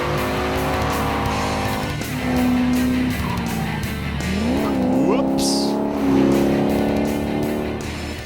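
A car skids and squeals its tires while weaving between traffic cones on a closed driving course, engine revving loudly and close throughout, with sharp tire chirps and sweeping squeals rising and falling.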